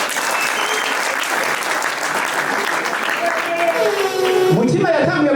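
A crowd applauds steadily during a comedy event honouring a president, with the dense clapping staying even and loud throughout and a voice rising over it near the end.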